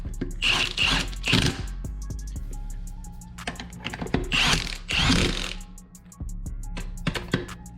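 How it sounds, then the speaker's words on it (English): A ratchet tightens bolts during a Jeep Wrangler JL suspension lift install, with rapid clicking bursts in several runs, close and loud, separated by short pauses and metallic clanks. "So last little bit left, get these tightened."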